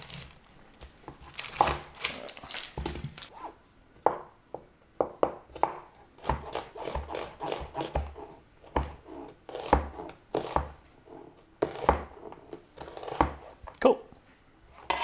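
Knife chopping an onion on a board: a steady run of crisp, irregular cuts and crunches, close and fairly loud, with brief pauses between strokes.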